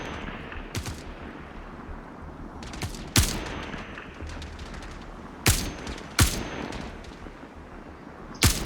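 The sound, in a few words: gunfire in the video game Star Citizen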